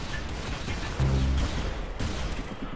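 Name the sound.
gunfire in Roblox Arsenal video game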